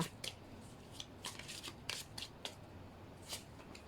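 Tarot cards are shuffled by hand in a string of quick riffling, snapping bursts, close up and steady, with no talking over them.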